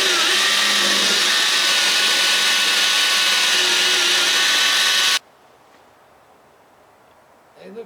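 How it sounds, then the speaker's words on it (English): A power drill bores through old bolts on the transom of a 1970 Orlando Clipper boat, a loud continuous whine for about five seconds that stops abruptly, followed by quiet handling noise. "I'll just have to drill them all the way through."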